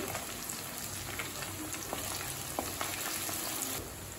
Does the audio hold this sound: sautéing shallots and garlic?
yes